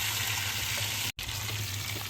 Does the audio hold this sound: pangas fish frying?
yes